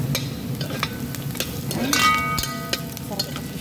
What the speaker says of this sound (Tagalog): Sarap kasi siya pag na-brown yung garlic at saka yung sesame seed.